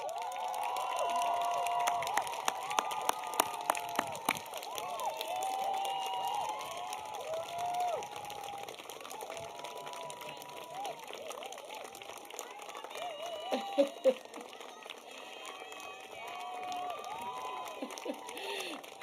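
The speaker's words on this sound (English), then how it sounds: "Can you give those that supported you a real cheer of applause?" At a 2024 commencement degree ceremony, a large crowd cheers and applauds in a sustained, distant wash of clapping with whoops and shouts rising throughout, heard through a hall's sound system.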